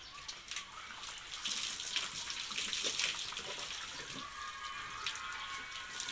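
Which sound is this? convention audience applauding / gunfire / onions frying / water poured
water poured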